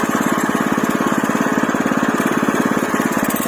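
Walk-behind tractor engine running at low throttle up close, a steady rapid chugging putter with a fast regular beat.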